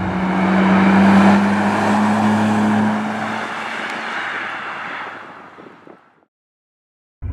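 A 25-year-old Nissan Skyline GT-R drives with a loud engine drone, humming strongly at first, then easing and fading away over several seconds before falling silent.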